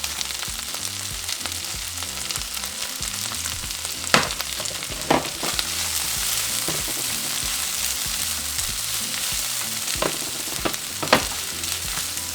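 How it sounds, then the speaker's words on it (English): Chopped onions and serrano chiles frying in oil in a pan, a steady crackling sizzle with a few sharp louder pops and occasional stirring scrapes, no voices. "So now we're just going to add our onions and our chile serranos."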